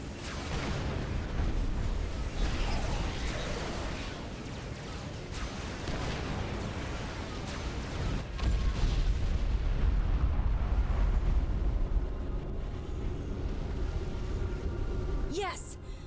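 The giant Colossus robot from Supreme Commander 2 blows apart in a cutscene: a long run of heavy, rumbling booms and crackling blasts, loud throughout and swelling near the end, with voices talking over the din.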